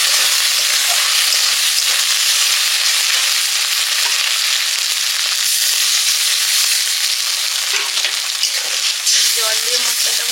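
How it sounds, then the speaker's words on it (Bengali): A spice paste with chili powder, onion, potato and eggplant fries in a pan with a splash of water, giving a loud, continuous hissing sizzle close up with faint stirring scrapes and no talk. "জল দিয়ে মশলাটা ভালো করে কষে নেব।"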